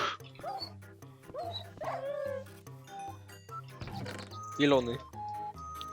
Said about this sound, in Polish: tak, psy! Wilki!